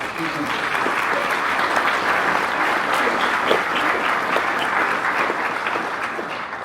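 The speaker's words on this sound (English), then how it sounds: "Please join me in a round of applause for the men and women" Sustained audience applause fills the room at an official Canadian Space Agency event, a dense, steady wash of clapping from many hands that holds at an even level throughout.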